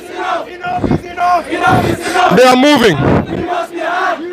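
A crowd of two to three hundred young people at a University of The Gambia student union protest march, loud massed voices shouting and chanting close by, with rising calls and one brief spoken line amid the din.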